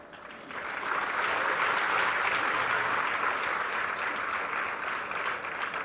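An audience at a religious discourse breaks into a sustained round of applause, swelling within the first second into dense, steady clapping that continues loud and even until the end.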